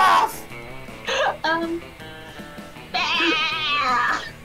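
A person voices a giraffe imitation that comes out as a wavering, sheep-like bleat, a few short nasal cries close to the mic followed by a longer quavering one.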